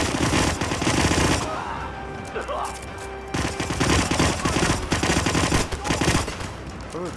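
Rapid, loud bursts of automatic gunfire fill the Hitman video game scene, crackling close and nearly continuous, with a short lull midway before the firing resumes, and a voice briefly cuts through the shooting.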